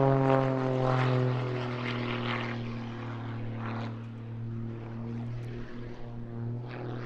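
Propeller aerobatic aircraft performing at the Eastbourne International Airshow, its engine a loud steady droning hum that slowly shifts in pitch as the plane moves, with no voices over it.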